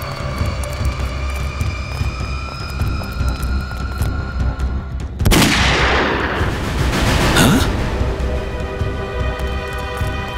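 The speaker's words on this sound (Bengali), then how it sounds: "গুলি চলার শব্দ" A sharp burst of gunfire cracks out midway, followed by a rushing, echoing roar that swells and fades, over a continuous background drone and hum in a tense crime-drama scene.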